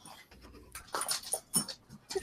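A pet dog whimpering and panting close by, a string of short uneven whines and breathy bursts growing louder toward the middle, with a faint jingle underneath.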